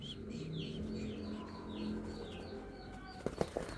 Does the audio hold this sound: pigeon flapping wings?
yes